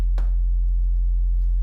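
Pure sine wave synth tone from Serum 2, a steady, loud, unwavering low hum that holds for the whole stretch, with a brief soft tick near the start and no voices.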